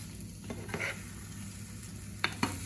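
Egg frittata mixture being stirred in a pan, a soft steady sizzle with a few scraping stirs and two sharp utensil taps near the end, heard alone.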